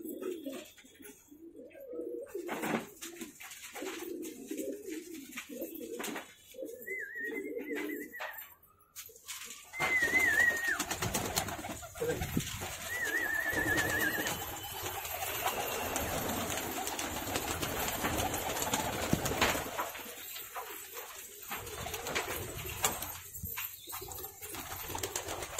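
Pigeons, desi crested breeds, coo softly inside a wooden loft in Nagpur, with faint scattered calls and some rustling and wing movement, quiet and close, with no speech.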